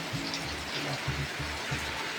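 Steady heavy rain pattering down on a vegetable garden, a dense even hiss of drops with a soft low rumble underneath, no voices.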